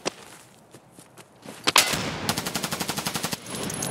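Gunfire in the video game Escape from Tarkov: scattered single shots, then a loud close burst of rapid automatic fire with about a dozen evenly spaced rounds, with no talk.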